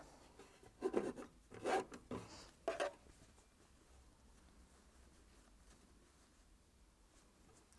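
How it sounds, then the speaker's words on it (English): Quilt fabric seams on a heart and nine-patch block are rubbed by hand in four short, soft, scratchy strokes close by, followed by near silence. "I just give it a little rub to make sure they're nice and close to each other."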